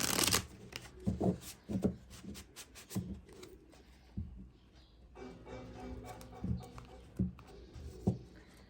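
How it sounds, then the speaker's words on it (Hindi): Tarot cards shuffled and drawn from a deck make soft riffling and flicking sounds in quick irregular bursts, close and quiet. "इस डेक से मैं सिर्फ 4 कार्ड्स ले रही हूँ गाइस।"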